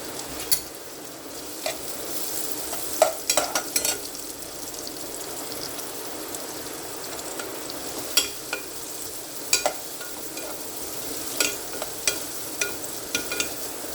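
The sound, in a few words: vegetables frying in a pan for hot and sour soup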